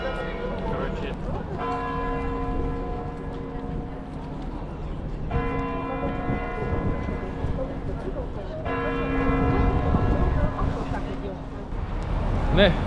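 Church bells near Red Square in Moscow ring at 3 pm, three long resonant strikes about three and a half seconds apart over busy street noise, with a person talking nearby.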